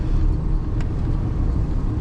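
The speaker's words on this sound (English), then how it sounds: "Getting the truck going." A truck engine idling in freezing cold weather, a steady close low rumble that holds constant for the whole stretch, with no talk.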